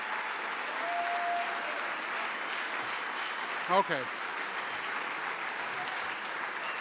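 An audience at a 2009 State of the City address applauds in a steady, even wash of clapping that holds throughout, with a voice briefly speaking over it.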